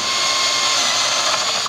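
A ratchet rapidly clicking while snugging a 10 millimeter nut on an intake manifold, a dense, loud, close buzz of metallic clicks running continuously before stopping abruptly.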